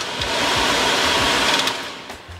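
A VW T6 van heater blower fan with a faulty resistor whirs at a high setting with a broad airy roar, constant and fairly loud, with faint ticks and rattles underneath.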